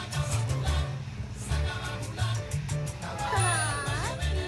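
Bonkers, a cat in The Sims 2, meows in a high, wavering cry near the end, over looping game music and background tones.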